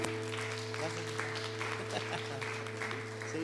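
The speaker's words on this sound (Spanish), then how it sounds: "Dale un fuerte aplauso al Rey de la Gloria." A church congregation claps in praise at an evening Spanish-language worship service, a steady patter of many hands running under sustained music and a voice.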